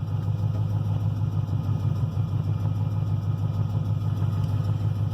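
Car engine droning steadily while driving, a loud, even low rumble with no breaks and no voices.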